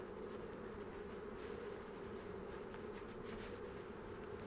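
A dense, steady buzzing of many honeybees, close and continuous, with no voices.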